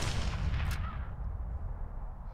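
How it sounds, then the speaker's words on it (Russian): Artillery fire from a battle in the strategy game Codex of Victory, a dense, continuous rumble of distant booms and blasts that holds steady through the moment with no voices. "Арта тоже стреляла."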